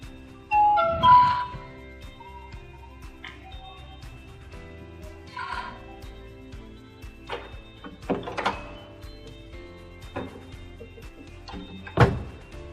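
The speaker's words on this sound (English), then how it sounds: "the sound when open the door is quite silent, especially in midnight" An Abrain AHD-609 fingerprint smart digital door lock unlocks and opens with a few short electronic tones followed by quiet mechanical clicks and soft thunks, fairly close and otherwise near silent.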